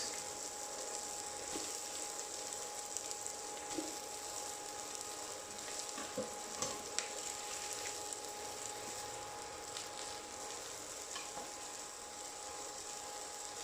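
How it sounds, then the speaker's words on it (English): Onions frying for a seafood açorda, giving a steady, faint sizzle with a soft crackle and occasional small pops, continuous and low in level. "You can now add the onions."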